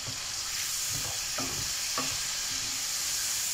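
Chopped liver sizzles and fries steadily in its leftover oil after garlic with vinegar goes into the pan, with a few stirring scrapes over a constant hiss and no talking.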